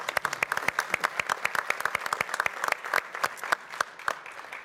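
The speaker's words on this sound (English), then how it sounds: "So how about a round of applause for our new members?" An audience claps for new members at a chairman's welcome, a dense burst of many hands that stays strong and even for several seconds before thinning slightly, with no voices over it.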